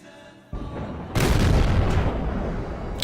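A T-34 tank gun fires in a video game, a single heavy boom that bursts in and rolls on with a long rumbling decay, loud and close.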